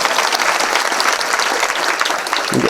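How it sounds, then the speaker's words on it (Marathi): Loud, dense applause from an audience at the close of a Marathi devotional kirtan, steady and sustained throughout with no pause. "एकदा जोरात ज्यांना हात आहेत त्यांनी टाळ्या वाजवा."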